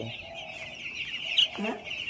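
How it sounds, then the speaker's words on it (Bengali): Poultry chickens cluck softly and steadily as they run about and feed nearby, a brief louder cluck standing out near the end over a continuous faint background. "আমি কাছে গিয়েছি আর মুরগিগুলো কত সুন্দর দৌড় মারছে"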